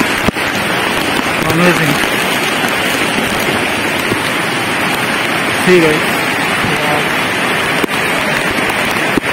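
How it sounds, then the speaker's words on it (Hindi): Heavy monsoon rain and a rushing waterfall at Tamhini Ghat make a loud, constant wash of water noise close by, while someone speaks briefly over it. "बारिश, नेचर, वाटरफॉल काफी बढ़िया।"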